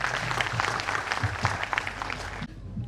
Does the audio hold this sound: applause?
yes